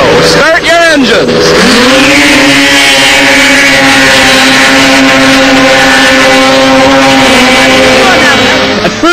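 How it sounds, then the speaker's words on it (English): Snowmobiles race across open lake water, engines roaring loud and close in a sustained high-pitched drone that rises in pitch as they accelerate, with voices mixed into the din. "people are actually racing their snowmobiles across a body of water."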